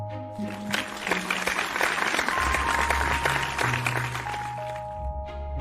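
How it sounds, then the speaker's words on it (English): A class of children gives a round of applause, a steady wash of clapping lasting several seconds, with tones and low background sounds running underneath. "Let's give Classic Caillou a round of applause."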